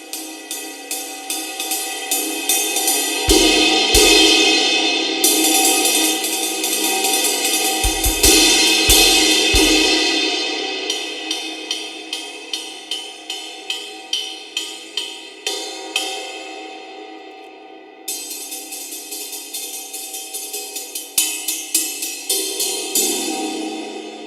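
Zildjian Gen16 electronic-acoustic cymbal struck repeatedly with its volume raised, ringing loud and bright with a long shimmering wash, then a run of quick rhythmic hits near the end, no voices.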